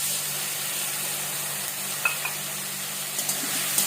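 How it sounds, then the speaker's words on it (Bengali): Tomato and spices fry in hot oil in a home kitchen, giving a soft, continuous close sizzle with a few light scrapes and taps as the mixture is stirred. "প্রথমে তেলে টমেটোটা দিয়ে নিলাম, একটু ঘেটে নিয়ে মশলাটাকে দিয়ে দিব।"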